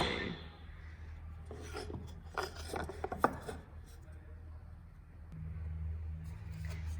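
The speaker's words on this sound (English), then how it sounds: "I can actually just use the tenon saw again to cut the other way" A tenon saw cuts wood by hand for a finger joint, a run of raspy strokes in the middle, close by, over a steady low hum.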